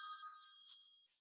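A mobile phone ringtone chimes during a webinar, a short bright electronic tone held for about a second before fading out, with no talk over it.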